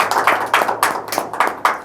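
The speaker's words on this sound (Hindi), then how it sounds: "जोरदार तालियों में इस्तकबाल करें इंसाफ से लोगों के" Audience applause at a poetry event, sounding as a series of sharp, clustered clapping bursts in a rhythmic pattern, fairly close and without talk.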